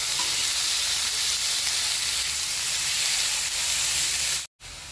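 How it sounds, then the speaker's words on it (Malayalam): Chopped beans and cabbage sautéing in a hot pan for a vegetable soup, a loud continuous sizzle with stirring scrapes, briefly cut off near the end. "ഇതും കൂടിയിട്ട് ഒരു ചെറിയ കഷ്ണം ക്യാബേജ് നറുക്കി എടുത്തിട്ടുണ്ട്. അതും കൂടിയിട്ട് നമുക്ക് വഴറ്റാം"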